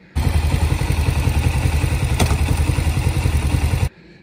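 A motorcycle engine running steadily close by, a low pulsing idle with some mechanical clatter and a single sharp clunk partway through as the clutch is pulled and the bike is put into gear, then cutting off abruptly.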